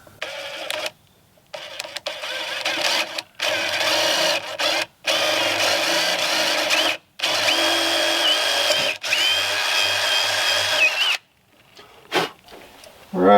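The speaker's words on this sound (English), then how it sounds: "what I'm going to need to do is drill a hole right at that 0 right there." A power drill bores a hole through a wooden sign, running in several long loud whirring bursts broken by short pauses, close by, with no one talking.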